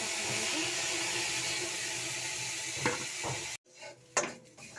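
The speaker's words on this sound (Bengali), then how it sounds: "এখন আমি কালো জিরেটা ভেজে নেবো।" Black cumin seeds sizzle in hot oil in a pan, a steady frying hiss with a couple of soft stirring scrapes, then it cuts off abruptly and a few utensil clinks follow.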